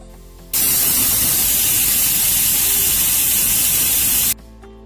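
Pressure cooker boiling lentils on a gas stove lets out one strong, steady hiss of escaping steam lasting about four seconds, starting and stopping abruptly, with no voices.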